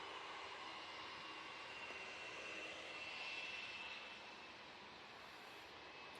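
A Turkish Airlines jet airliner approaching to land at Manchester Airport gives a faint, distant whine and rumble that swells slightly and then fades.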